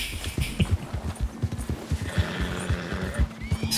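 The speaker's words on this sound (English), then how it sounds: "Skittish horse, alright." A skittish horse in the Red Dead Redemption 2 video game stamps its hooves in rapid, uneven thuds and gives a drawn-out neigh midway, heard up close in the wilderness.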